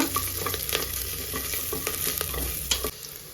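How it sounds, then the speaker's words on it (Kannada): Green chili and ginger fry in hot oil with mustard and cumin, a dense close sizzle broken by repeated scraping stirs of a spatula against the pan, with no talking. "ಸೊ ಇವಾಗ ಇದನ್ನ ನೀಟಾಗಿ ಫ್ರೈ ಮಾಡ್ಕೊಳ್ಳೋಣ"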